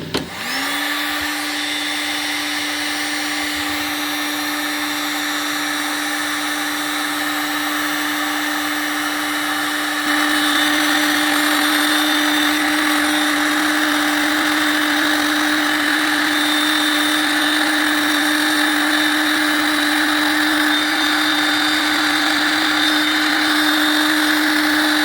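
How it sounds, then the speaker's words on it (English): A heat gun blows steadily on 3D printer waste plastic, a continuous loud whirring roar with a fixed motor whine, unbroken for the whole stretch and slightly louder in the second half, with no talking. "I'm going to try and use a heat gun on it and see if it does it quicker than the oven"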